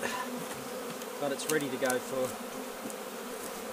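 Honeybees hum and buzz close by at a hive during winter closedown while someone speaks briefly over them, the droning rising and falling in soft waves.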